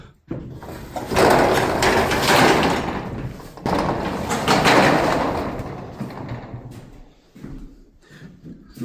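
A roll-up metal door on a newly delivered motorcycle shop rattles and rumbles in two long runs, loud and close, each with a clattering grind, before the sound tapers off.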